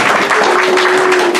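A church congregation applauds in a dense, steady wash of clapping that fills the room loudly, with a faint sustained tone running beneath it.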